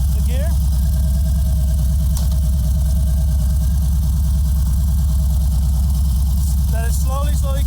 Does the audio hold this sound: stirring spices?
no